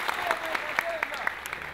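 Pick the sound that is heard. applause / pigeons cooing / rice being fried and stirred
applause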